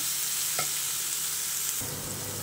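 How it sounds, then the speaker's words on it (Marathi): Onions sautéing in plenty of oil for spicy misal, a steady soft sizzle with a faint stirring scrape near the start, heard close and alone at a low level. "तर आपला कांदा परतून होतोय."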